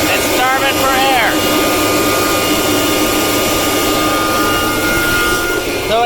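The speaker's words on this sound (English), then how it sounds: "So it tells me my fan is going fast, the RPMs are going fast" An air seeder fan spinning at high RPM during field seeding makes a loud, constant whining roar that holds steady throughout, with brief rising and falling tonal sweeps near the start and end.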